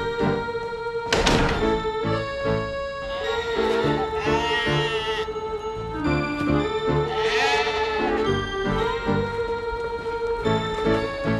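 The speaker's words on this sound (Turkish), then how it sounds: "Koyunları kamyona yüklüyoruz ya." Sheep bleat several times among repeated loud thumps and clatter as they are loaded onto a truck, with music playing throughout and no speech.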